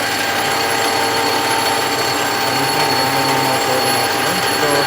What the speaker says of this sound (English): So let me show you the working video of the machine.